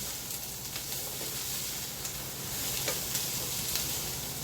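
Food sizzles steadily in a hot pan during a home-cooked lunch while it is stirred, with faint scraping touches over a continuous crackling fry and no talk.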